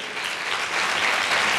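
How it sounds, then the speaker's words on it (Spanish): Loud, steady applause from a gala audience for a municipal music school orchestra in Manilva, sustained and dense throughout without a break. "ese fortísimo aplauso para nuestra orquesta de la Escuela Municipal Manilveña"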